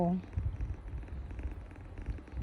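A fat cat lying on a lap purrs in a low, rumbling, continuous flutter, close and soft, while someone speaks over it.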